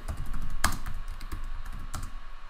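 Fingers typing on a computer keyboard, a quick irregular run of close, soft key clicks with a couple of sharper taps standing out.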